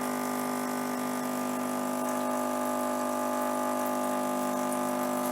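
Steady rushing flow of water from a Lelit espresso machine with a newly installed flow valve, with a constant mechanical hum underneath, close and continuous, no voices.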